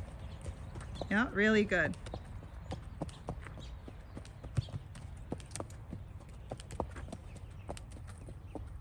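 A Tennessee Walking Horse walks downhill under a rider, its hooves clip-clopping in a steady, fairly even rhythm close by, while a person briefly speaks over the footfalls.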